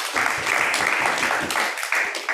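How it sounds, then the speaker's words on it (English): A short burst of audience applause at a leadership seminar, dense steady clapping from a crowd, fairly loud throughout. "Clap it up."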